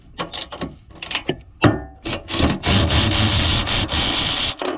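Ratchet loosening tight 14 mm bolts on the 3.5L V6 engine of a 2011–2020 Toyota Sienna, with short clicking pawl bursts and scraping, then a longer stretch of steady rapid ratcheting close by.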